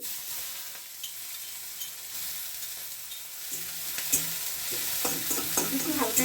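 Chopped onion, garlic and green chili drop into hot oil with a rising sizzle and frying crackle, joined by stirring scrapes in a pan; no voices.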